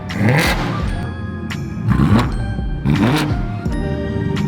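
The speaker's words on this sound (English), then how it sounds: "We got a GTR right here. Shoot them big flames." A Nissan GT-R at a car show revs hard in repeated bursts, its engine roaring up and falling back with popping crackles, loud and close among the noise of the crowd.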